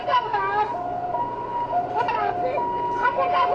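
Ambulance siren wailing at the scene of a school accident in Taiwan, where a boy was crushed under a collapsed shelter, a steady wavering tone running throughout beneath continuous talk.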